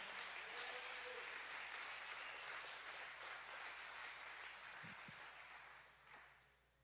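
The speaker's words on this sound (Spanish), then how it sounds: "Dale un fuerte aplauso a Cristo." Audience applause at a talk, a dense even patter of many hands heard faintly and at a distance, holding steady before fading away near the end.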